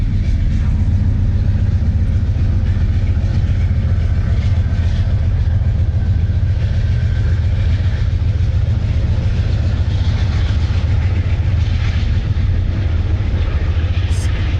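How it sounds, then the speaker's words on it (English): A train rolling past outdoors, a heavy continuous rumble with a low rail drone that holds steady for the whole stretch. "there's a train. You can probably hear it going by in the background."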